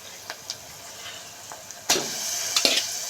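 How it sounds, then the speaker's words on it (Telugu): Onions and mutton sizzle in a hot pan, a steady low crackle broken by sharper spits and stirring clatters, loudest in the final second. "ఆనియన్స్ అయితే బాగా మగ్గిపోయాయండి ఇప్పుడైతే మటన్ అయితే వేసుకుందాము"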